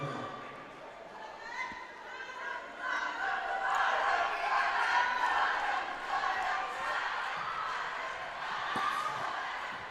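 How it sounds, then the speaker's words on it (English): A team's supporters cheer and shout from the background of an international sports match, a loud rising crowd roar under a commentator's voice. "You can hear in the background there the Indian team cheering on their athletes."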